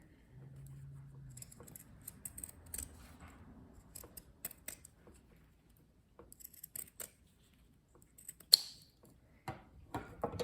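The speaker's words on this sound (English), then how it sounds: "And I have my pinking shears here." Pinking shears snipping through fabric tabs cut from a fabric sample book, giving sparse, sharp crisp cuts and clicks spread across a quiet room, with one louder snip near the end.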